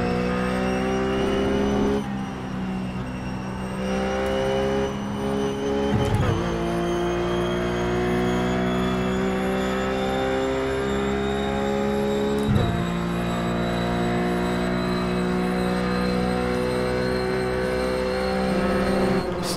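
Ruf Cup race cars at Phillip Island in iRacing, engines droning loudly and continuously with rising revs and sharp gear changes, with no talk.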